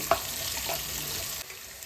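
Onions and curry leaves fry in a pan for fish sambar, a steady hiss and sizzle with a short stir or clatter near the start, close and alone.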